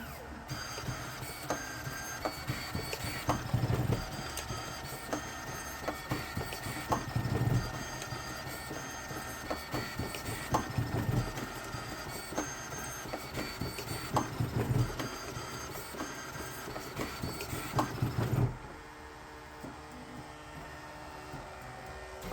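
Mercury 1.1 zeroG 3D printer fitted with LDO Speedy motors running at 900 mm/s, a loud continuous whirring buzz of fast stepper moves with rapid rhythmic pulses, close up, easing to a quieter hum near the end.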